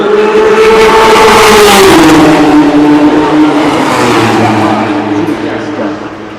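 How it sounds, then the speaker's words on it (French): Porsche race cars and a Ferrari roar past at the 24 Hours of Le Mans, loud close engines sweeping through the Indianapolis curve with a falling pitch as they pass, the noise fading slightly toward the end. "Deux Porsche qui reviennent sur la Ferrari du team BMW Motorsport qui vont voilà passer la courbe d'Indianapolis."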